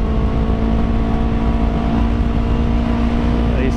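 A Yamaha R3 motorbike engine hums steadily with a droning, harmonic tone while pulling through a corner on a road, close and continuous with wind rush underneath.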